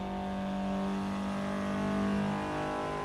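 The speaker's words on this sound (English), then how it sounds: "Bit more of a tin can exhaust, so it has that sound." Toyota AE86 with a thin, tinny aftermarket exhaust in Assetto Corsa EVO, holding a steady, moderately loud drone with buzzy harmonics, no talk over it.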